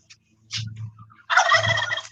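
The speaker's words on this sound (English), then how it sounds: "Here's the enclosure with the turkey hen and her babies." A turkey hen in her enclosure with her young gives a short gobbling burst, then a louder, fuller gobble lasting almost a second, close by with no talk.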